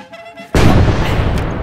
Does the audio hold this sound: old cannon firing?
yes